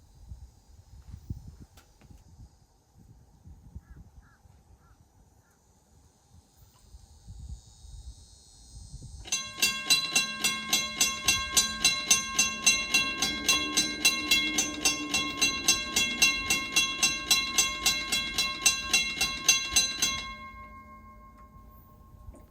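A freight train hauled by Florida East Coast GP40-2 diesel locomotives and carrying solid rocket booster segments passes, starting with quiet rumbling and then a loud, steady clatter of rhythmic wheel beats and a sustained tone before fading.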